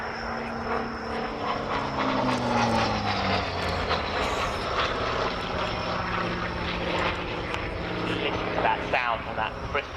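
A Hawker Sea Fury piston fighter with a Bristol Centaurus engine at an air day display, its roaring propeller drone holding loud and steady throughout with a shifting, passing quality, while a voice talks over the noise.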